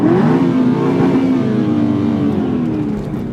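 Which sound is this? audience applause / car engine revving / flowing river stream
car engine revving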